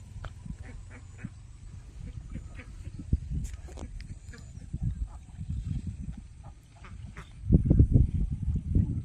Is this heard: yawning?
no